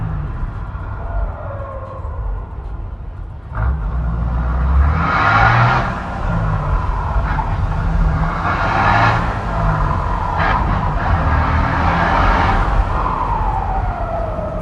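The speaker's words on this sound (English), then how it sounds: "It's making like a whiny sound when he gets off the engine." A car engine gives off a whiny, rising and falling tone over a steady low rumble during a Saturday night cruise through Denver, loud and close, with the pitch sweeping up and down several times.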